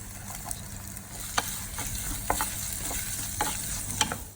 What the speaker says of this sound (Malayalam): ഇനി ഒരു 10 ചെറിയുള്ളി ഇതുപോലെ ഒന്ന് കത്തി കൊണ്ട് പ്രസ് ചെയ്തതിന് ശേഷം അതിലേക്ക് ചേർത്ത് കൊടുക്കാം